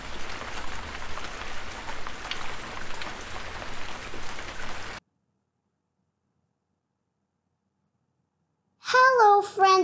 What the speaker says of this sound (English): It's thunderstorm. It's raining.